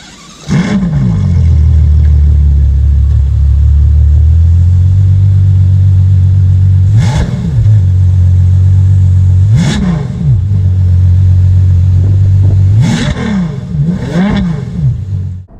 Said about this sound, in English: Let me give you that beautiful startup, and then we'll go on a drive